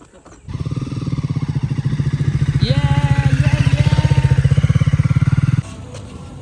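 A motorcycle on a coastal ferry-and-road ride from Uran to Ganpatipule runs close by with a steady, throbbing engine drone for about five seconds, holding an even pace before cutting off abruptly.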